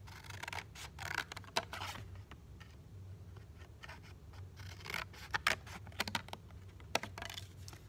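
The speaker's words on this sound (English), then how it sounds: "So I'm going to cut that shape out." Scissors snip through paper while a fish-shaped piñata piece is being cut out, making a run of close, crisp cuts in irregular bursts over a low steady hum, with no talking.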